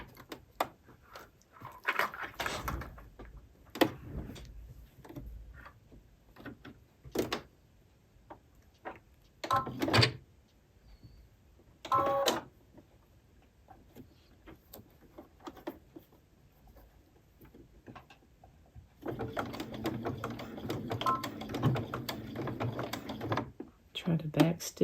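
A sewing machine stitches a small quilted potholder in short, faint mechanical bursts broken by pauses, then runs in a longer continuous whir near the end.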